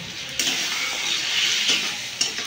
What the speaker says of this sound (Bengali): জল দিয়ে ভালো করে নাড়িয়ে নেবো।